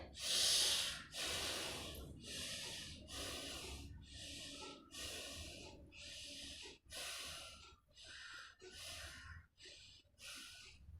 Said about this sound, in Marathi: उजवी नाकपुडी बंद करून डावीने 5 वेळा श्वास घ्या।